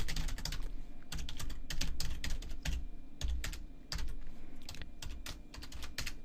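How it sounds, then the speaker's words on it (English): Steady, rapid typing on a computer keyboard, close and clear, with bursts of keystrokes separated by brief pauses. "I'll type another comment here."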